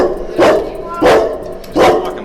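A dog barks three times at an even pace, each bark loud, close and ringing out over a steady background hum.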